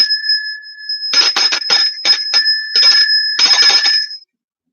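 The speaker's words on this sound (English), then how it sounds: "Oh, I might need a new bell because this one doesn't seem like it's." Small bell rung in quick bursts, with bright sustained tones and a cluster of rapid, uneven strikes, close and fairly loud, alone.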